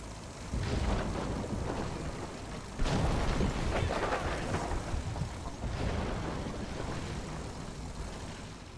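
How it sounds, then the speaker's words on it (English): A Panzerwerfer rocket artillery salvo in a WWII strategy game lands as a series of rumbling blasts, several heavy impacts overlapping into a loud sustained barrage with no talking. "We'll start with a jolly Panzerwerfer salvo."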